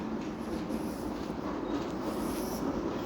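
Freight train of around eleven cars rolling past, a steady dense rumble with faint clatter, continuous throughout and fairly close, with no talk.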